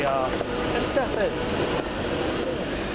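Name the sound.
London Midland train arriving, Crewe to Northampton service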